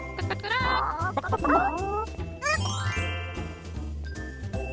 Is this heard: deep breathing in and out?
no